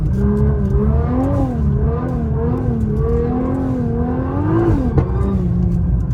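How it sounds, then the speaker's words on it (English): A Nissan R35 GT-R drives through snow, its engine and exhaust droning loud and close, with the pitch rising and falling steadily as the revs swell and ease. "I feel like the car's gotten louder over the past few months."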